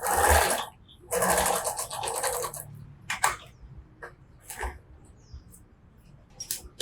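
A sewing machine stitches a seam on a bag handle in short, close bursts of buzzing motor and needle clatter, separated by quiet gaps and small handling clicks.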